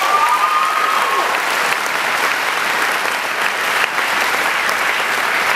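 An audience claps in sustained applause, a dense, loud wash of many hands filling the room throughout with no break.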